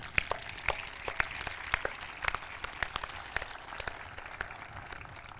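Sparse, scattered clapping at a high school graduation for the Class of 2017 seniors, a thin round of individual claps spread steadily across the moment rather than a full ovation.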